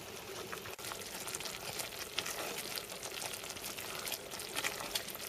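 Toffee mixture cooking in a pot over medium heat, a steady soft bubbling and simmering hiss with faint pops throughout, close and even in level.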